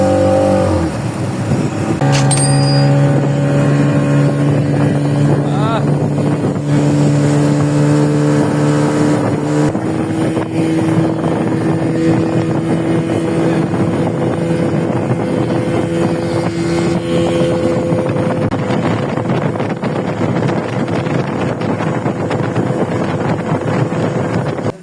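A motorboat travels from Maheshkhali ferry ghat to Maheshkhali, its engine droning loud and steady throughout with a wavering tonal whine, overlaid by constant wind rush on the microphone.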